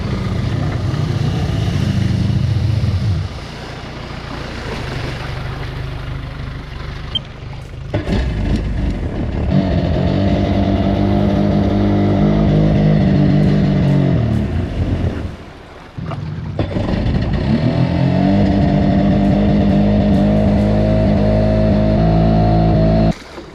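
A 1995-96 Sea-Doo XP personal watercraft, running poorly, drones loudly and steadily on a water test ride, its two-stroke engine note rising and falling with a brief drop-off partway through.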